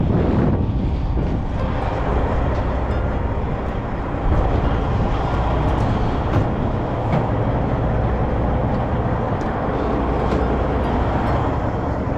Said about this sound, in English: Some serious wind.